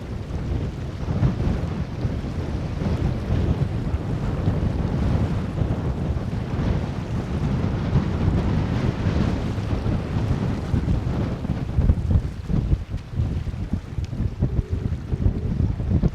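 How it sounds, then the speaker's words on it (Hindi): Strong wind gusts across Pangong Lake in Ladakh and waves wash against the shore nearby, with heavy wind buffeting the microphone in a constant rough roar and no voices. "यहाँ पे वेव्स भी देख लो बड़ी तगड़ी आ रही हैं, क्योंकि हवाएं तेज़ चल रही हैं"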